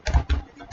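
A computer keyboard is typed on up close, giving a few quick, soft key taps in an uneven rhythm.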